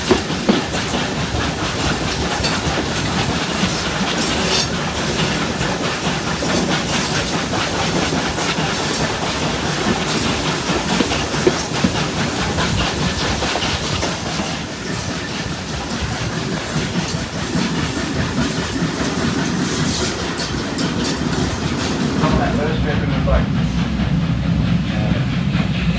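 Steam locomotive with a sheared cylinder drain valve, running at a steam festival; a loud, continuous rolling rumble and hiss persists close by for the whole stretch, with a steady clatter of motion.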